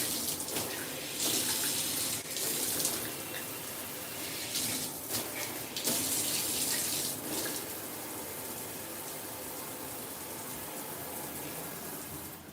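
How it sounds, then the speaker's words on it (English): A hotel shower head runs water through its different spray modes, a steady broadband hiss and gush that shifts in texture and strength as the modes change, close and continuous for the whole stretch with no talking. "And here's the shower. Let's see what kind of shower head it is."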